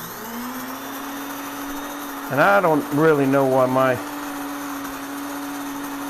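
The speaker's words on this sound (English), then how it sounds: "So these are the whole wheat berries put right in the grinder. Now I'm going to grind it," An electric grain mill grinds whole wheat berries into flour, a steady whining drone like a vacuum cleaner running continuously while someone talks over it midway.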